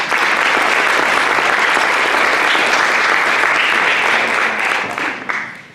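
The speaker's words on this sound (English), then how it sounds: "Can we hear a round of applause for Haley?" An audience claps steadily and loudly after a performance at a school jazz band concert with players from grades 6 through 12, a dense, continuous wash of applause that holds for several seconds before tapering off.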